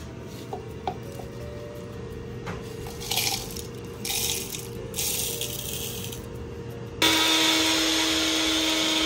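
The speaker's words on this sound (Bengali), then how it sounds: "ভেজে রাখা মশলাগুলো এখন গুঁড়ো করে নেব।" An electric grinder powders roasted spices for a sweet and sour raw mango chutney, a steady mechanical rattle and whir that starts up sharply and loudly near the end, after quieter kitchen clatter.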